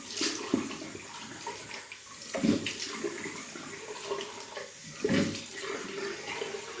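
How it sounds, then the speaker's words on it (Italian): Water splashes three times at a sink while hard shaving soap is soaked and the face is wetted, each splash short and close, with a soft running-water hiss between them. "quindi faccio a mollo, mi bagno il viso"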